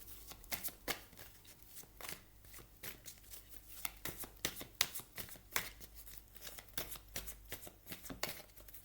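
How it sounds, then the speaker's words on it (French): A deck of tarot cards shuffled by hand, producing quick, crisp riffling flicks and soft slaps in a steady irregular rhythm, close and quiet, with no voice. "On va aller prendre également une carte de tarot ici avec le tarot psychique de John Holland"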